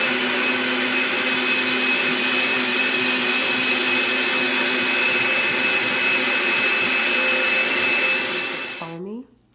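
A blender blending aloe vera runs at a loud, steady high-speed whine for several seconds, then abruptly winds down and stops near the end.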